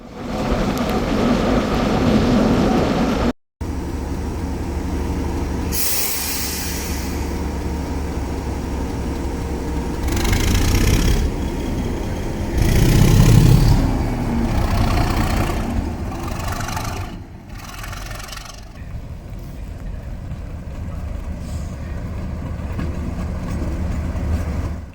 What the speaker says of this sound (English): I watched the loco run around its train under my brolly